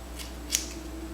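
Scissors snipping the ends of a blonde deep wave wig, heard as two quick, close, crisp metallic cuts over a steady low hum.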